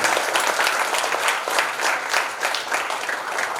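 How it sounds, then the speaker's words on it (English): Thunderous applause for an award recipient at a wildlife week celebration in a conference hall: dense, loud, continuous clapping from a large crowd filling the whole stretch. "Let us all give him a thunderous applause, ladies and gentlemen."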